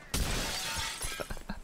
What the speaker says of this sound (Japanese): 割りがいがあるね、この窓ガラス。